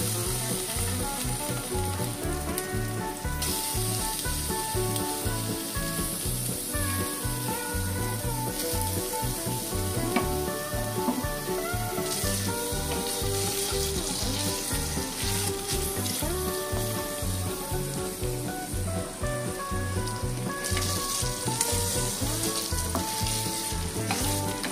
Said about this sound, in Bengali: তো আমি ঘিটার মধ্যে প্রথমে পনিরটা দিয়ে একটু নাড়াচাড়া করে দেব।